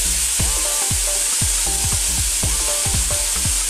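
Crab simmering in coconut milk in a pan, stirred to give a steady, loud sizzle with repeated scraping strokes against the pan at an irregular rhythm; nobody speaks.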